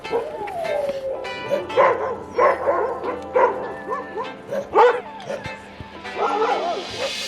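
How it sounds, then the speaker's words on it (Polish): Husky sled dogs at a kennel, several barking, yipping and whimpering with howl-like calls in a busy overlapping chorus, fairly close and fluctuating in loudness. "natknąłem się na hodowlę psów husky, które wciąż są tu regularnie wykorzystywane do psich zaprzęgów"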